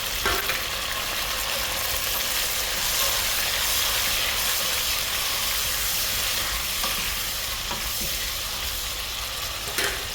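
Ingredients for vathal kuzhambu sauté in a pan, a loud, continuous sizzle and crackle of frying with occasional stirring strokes, close and uninterrupted.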